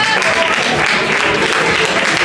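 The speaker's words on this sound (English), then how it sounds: "Let's give a big round of applause." A crowd at a boxing weigh-in breaks into loud, dense applause, a constant roar of clapping with a few voices mixed in, close and sustained throughout.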